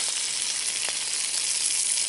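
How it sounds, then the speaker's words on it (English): Steady, close sizzling of bacon stew frying in a pot over a campfire, a constant crackly hiss with no talking. "you can tell it's still sizzling away here."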